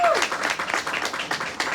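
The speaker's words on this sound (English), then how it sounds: "Give yourselves a round of applause" Audience applause after an award speech at a Jackie Robinson Fortitude Award event, uneven and fairly close, with clustered claps rising and falling and some voices mixed in.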